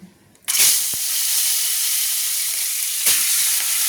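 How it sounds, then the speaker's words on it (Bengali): Five rohu fish pieces dropped into hot oil seasoned with turmeric, bursting into a loud sudden sizzle that settles into a steady close hiss, with a second flare of spattering near the end. "তেলে যদি আমি হলুদটা দিয়ে মাছটা ভাজি, তাহলে মাছটা ভাজার সময় তেলটা আর ঠিকরাবে না"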